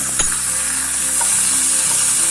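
Chopped coriander sautéing in garlic butter in a pan, a loud bright sizzle right up close with a quick stirring scrape at the start, steady throughout.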